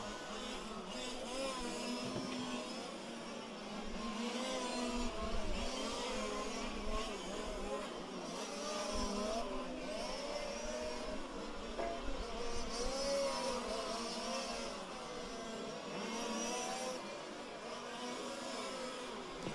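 Fifth-scale RC race cars scream around a track during an A main race, their small engines buzzing and rising and falling continuously at moderate distance, with no break in the drone.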